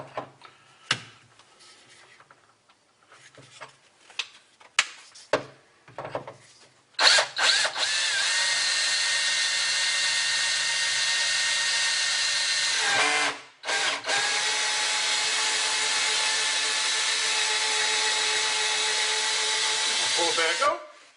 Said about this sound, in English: We're going to run the drill through there.